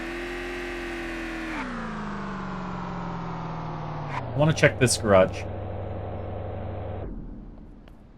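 A car engine idles steadily in the survival video game VEIN, its tone dropping as it settles, under brief speech, then cuts off as the engine is killed.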